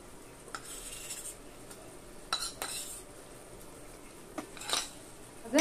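Spice paste with ground cumin and salt being sautéed in a pan for a rohu fish curry, a soft low sizzle with several spoon scrapes and metallic clinks, the loudest near the end.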